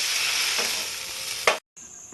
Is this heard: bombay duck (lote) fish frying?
yes